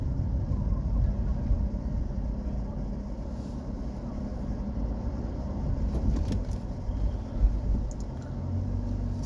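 Low, steady engine drone from inside a car as it turns around on a road, the rumble continuous and close with slight shifts and a faint knock near the end.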